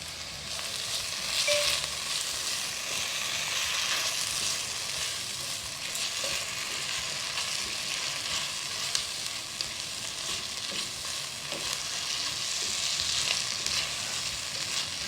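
Green peas kurma sautéing in a pan after coconut milk goes in, a steady, fairly loud sizzle and bubbling hiss running continuously with faint stirring scrapes.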